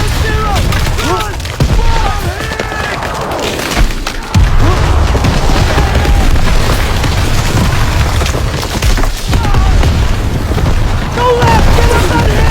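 Artillery shells pound the ground in the Hürtgen Forest battle of Call of Duty: WWII, a loud, continuous barrage of heavy booms and splintering blasts. Shouting voices rise over the rumble.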